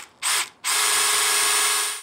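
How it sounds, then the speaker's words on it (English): A power drill bores a starter hole into a travel trailer's metal frame, running in two short bursts: a brief whine, a pause, then a longer steady high-pitched drilling run, close and loud. "Now I'm gonna do a couple bursts here just to get the hole started."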